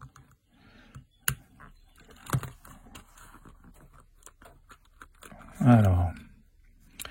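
A residual current circuit breaker's plastic casing is pried open with a few sharp cracks and clicks amid quiet handling noise, followed by a louder, longer rasping scrape near the end.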